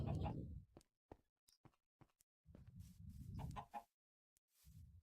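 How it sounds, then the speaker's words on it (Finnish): A chicken in Minecraft clucks in several short bursts with pauses between, close and clear against silence. "Kana."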